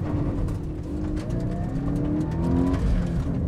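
A Toyota 86 fitted with BC Racing suspension drives at speed, its engine droning and rising steadily under continuous road and wind noise, with no voices.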